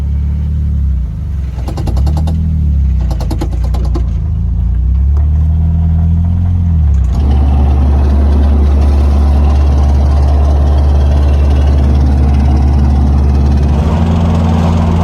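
A Nissan Silvia S14 engine on a test drive, a loud, close, low droning hum from inside the car that wavers with engine speed and then settles into a steady, rougher running tone.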